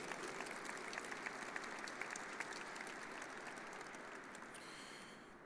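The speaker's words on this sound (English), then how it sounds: "how about a round of applause for her?" Sustained applause from a crowd at an Air Force Test Center change of command ceremony, steady and dense throughout before tapering slightly at the end, with no talking over it.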